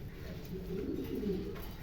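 A pair of large German Cooper pigeons, a black male and a copy-coloured female, give a soft, low, rolling coo that swells briefly in the middle, faint against a steady background hum.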